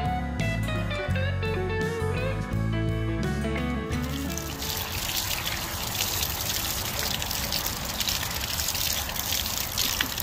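Water draining out of an RV water heater while a hose sprays inside the tank, a continuous splashing gush that takes over from music playing at the start and runs steadily to the end.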